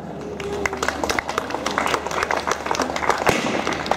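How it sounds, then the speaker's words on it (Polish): A crowd at the opening of a town festival applauds city officials, scattered outdoor clapping at some distance mixed with crowd murmur and a voice speaking. "Wielkie brawa dla wszystkich urzędników i przedstawicieli władz miasta."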